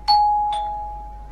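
A doorbell in a horror video game chimes with two quick tones, the second ringing out and slowly fading over a quiet background.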